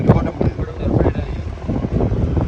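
A fishing boat's engine at sea off Thoothukudi, a loud, close, rough rumble mixed with wind buffeting on the microphone, with someone talking over it.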